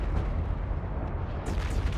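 A ship explosion in the space game EVE Online: a loud, dense rumbling burst that holds steady for two seconds, with a brighter crackling surge near the end and no talk over it.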